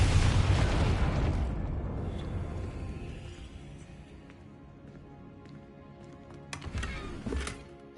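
A Confringo blasting curse explodes in Hogwarts Legacy, a loud, full boom that rolls and slowly fades into a low rumble, followed by a few faint thuds and pops.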